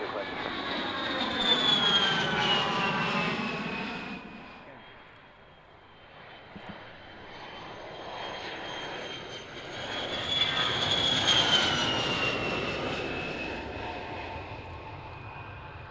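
Antonov AN-12 aircraft engines droning overhead near a runway, a loud steady turboprop roar that fades midway and swells again, with talk over the top.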